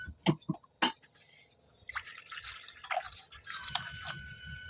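Water is added to a simmering fish masala curry made with tol fish, opening with a few sharp drips and splashes, then a soft running pour into the pot that continues in uneven bursts against faint kitchen background.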